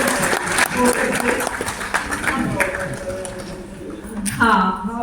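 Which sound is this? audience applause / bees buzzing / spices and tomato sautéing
audience applause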